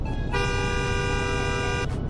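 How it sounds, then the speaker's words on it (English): A car horn in a driving game, sounded on a detailed 3.0T M Performance model during a horn test: one steady, loud blare held for about a second and a half, with no talking over it. "horn test."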